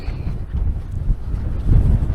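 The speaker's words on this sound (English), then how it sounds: "Windy, windy, windy." Wind gusts across open heathland at Holt Heath, a steady low rumble buffeting the microphone, swelling louder near the end with no other sounds standing out.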